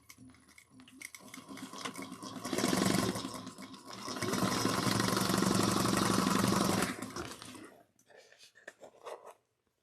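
A sewing machine stitches a quarter-inch seam on a handheld bag, running in two loud, steady bursts of rapid mechanical clatter with short pauses, and quiet speech before and after.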